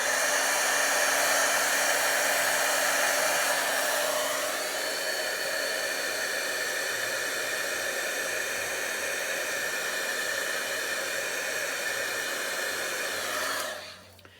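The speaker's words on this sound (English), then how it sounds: "so I want to make sure that it's not going to smear, so I'm going to heat set it" Heat tool blowing steadily and loudly to heat set pigment ink on a stamped Christmas card, a continuous whooshing hiss that shifts slightly in tone partway through and cuts off near the end.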